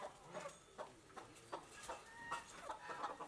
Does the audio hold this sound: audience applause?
no